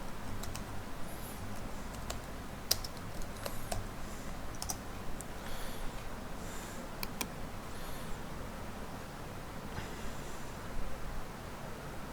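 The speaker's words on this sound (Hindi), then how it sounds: "मैं यहाँ पे सर्च बार में लिखूँगा बिज़नेस कार्ड।" Fingers type on a computer keyboard, entering a search into Canva, producing light, quick key clicks over a steady background hiss.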